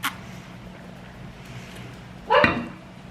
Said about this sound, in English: the dogs are like literally on go mode right now